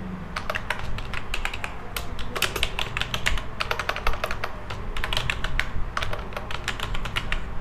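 Someone types a shop address on a computer keyboard, with quick bursts of close, crisp key clicks separated by short pauses.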